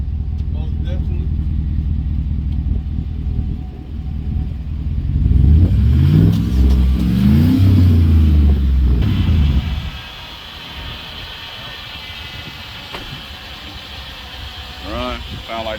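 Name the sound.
car engine running, power steering noise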